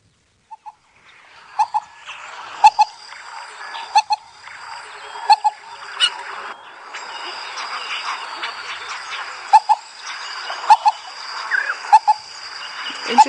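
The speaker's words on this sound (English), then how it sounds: "Oh, I do have the black cuckoo." Black cuckoo call played back through a Southern Africa bird app speaker outdoors on a sunrise safari drive, repeated paired whistled notes at a steady rhythm over a dense background chorus of insects and birds.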